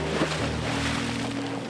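Open Pacific Ocean water above a kelp forest, with a steady broadband wash of waves and wind and a low, even motor-like hum underneath, continuous and fairly loud throughout.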